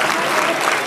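An audience at an award ceremony bursts into dense, loud, continuous applause for about a second, crowding out any other sound.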